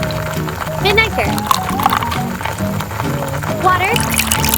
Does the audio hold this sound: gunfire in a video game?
no